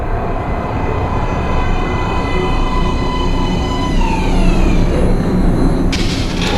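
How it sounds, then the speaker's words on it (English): An underground metro train in the video game Metro Last Light rumbles steadily into a platform, with a loud continuous roar and long descending wheel squeals near the end, no voices. "Please step away from the edge of the platform. Train coming in."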